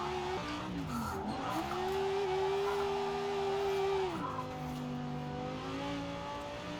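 Italdesign Zerouno car drifting in Forza Horizon 4, a loud continuous engine note climbing as it revs and holding high before dropping back, with tire squeal and skidding underneath, no voices.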